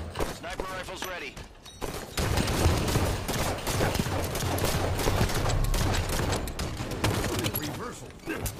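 Dense gunfire rings out during a Halo 5: Guardians match as a sniper rifle is readied, loud sustained shooting with mechanical clicks, faint at first and then continuous from about two seconds onward.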